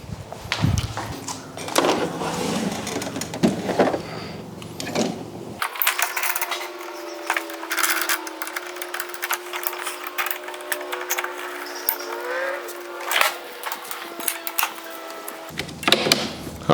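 A used Kobalt battery lawn mower starts up and runs for about ten seconds with a steady electric motor whine and blade hum, then winds down, with handling clatter before and after.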